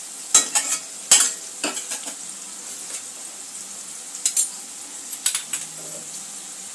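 Onion frying in a pan as it softens, with a spatula scraping and stirring in several bursts over a steady sizzle, close and clear with no talk.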